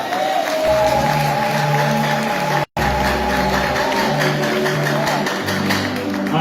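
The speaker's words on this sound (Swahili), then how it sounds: "Piga Yesu makofi." A church congregation claps for Jesus during a Sunday thanksgiving service, a continuous crowd patter over loud, sustained worship music, with a brief dropout partway through.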